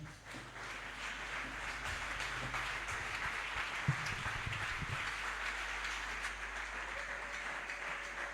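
Congregation applause in a church after a sermon, a faint, distant wash of clapping that holds steady throughout without any voices over it.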